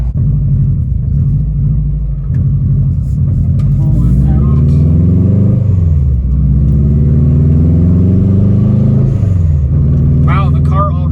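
Subaru Forester STI running on a base tune, its engine loud and steady while driving, with pitch rising and falling through several rev sweeps as it accelerates and shifts.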